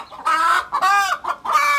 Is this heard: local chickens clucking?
yes